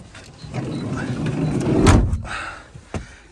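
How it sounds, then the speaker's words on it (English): Door of a Citroen Berlingo micro camper van conversion being pulled shut from inside, a rising rustle and slide building to a solid thud, followed by a sharper click. "Get this door closed."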